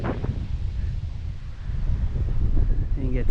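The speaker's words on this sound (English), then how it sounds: "Woo, it's so windy today." Strong wind at a beach in Poipu, Kauai, roars across the microphone in a constant low rumble, with a brief bit of speech near the end.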